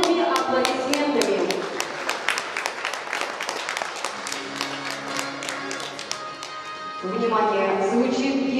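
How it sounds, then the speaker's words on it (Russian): Audience applause for participants at a futsal tournament awards ceremony, dense rapid clapping from a crowd sustained for several seconds, with a voice speaking over the start and end. "Поприветствуем наших участников бурными аплодисментами."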